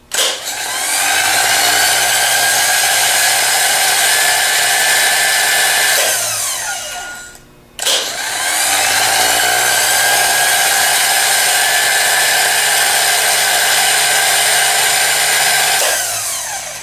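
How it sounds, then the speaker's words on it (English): Delco 42MT starter motor spinning up on a bench test: a loud, steady high-pitched electric whir that runs for about six seconds, winds down, then starts again and runs another eight seconds before stopping. "Now we're going to spin the starter up and listen to it spin up."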